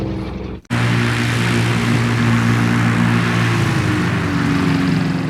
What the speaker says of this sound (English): 34 aeroplanes flew over our heads and bombed it terribly